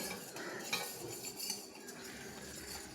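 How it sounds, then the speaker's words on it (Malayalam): A spoon stirs in a dish after lemon has been squeezed in, giving quiet clinks and scrapes of metal against the vessel, soft and close, with no speech. "നല്ലപോലെ ഇളക്കുക."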